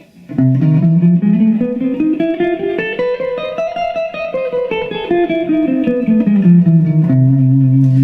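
A guitar climbs a scale, mode 3 of A double harmonic minor, note by note and then descends again, each pitch clearly separated, with a sustained low note closing the run.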